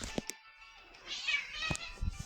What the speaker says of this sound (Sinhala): අපේ පූසා කෑ ගහන ඇහුණාද